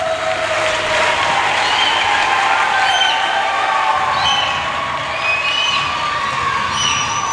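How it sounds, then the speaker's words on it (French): Loud, sustained applause and cheering from a large congregation in a church during a priest's first Mass, with shouts and ululating calls rising over steady clapping throughout. "applaudissements"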